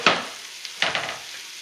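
Potatoes tipped into a pot of celery soup with bay leaves, two short clattering bursts about a second apart, close and moderately loud, with faint kitchen background between them.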